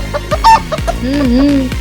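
A hen clucks several times in quick short bursts, then lets out a longer drawn-out cackle, loud and close.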